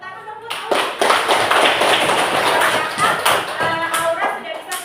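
Classroom applause for a student after a handwashing lesson during a teaching practice exam, a burst of many hands clapping that swells and then tapers off, with a voice heard in the room.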